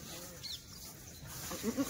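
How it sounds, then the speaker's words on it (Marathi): Kathiawadi goats in a shed, with a couple of short bleats rising near the end over quiet background noise and faint indistinct sounds, fairly distant and soft. "मित्रांनो बघा या शेड्या घेतल्या आहेत"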